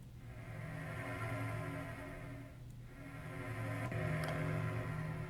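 Synthesized car engine from a driving game, driven by volume alone: a steady, constant-pitch hum with a buzzy harmonic stack that swells and dips in loudness over several seconds, heard alone with no talk.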